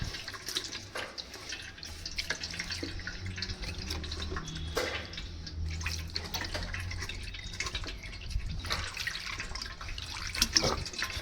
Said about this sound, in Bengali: জল দিয়ে সুন্দর করে ছানাটাকে কিন্তু ধুয়ে দিচ্ছি আমি দেখো